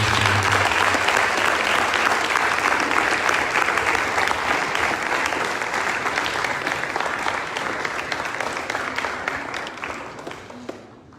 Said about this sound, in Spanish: Damos nuevamente un aplauso.